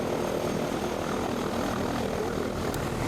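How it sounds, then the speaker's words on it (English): A Kenya Air Force plane roars steadily overhead during a formation flypast, a loud continuous engine drone that holds unbroken throughout with no voices. "the next time that you see this plane or any other plane do a formation fly past"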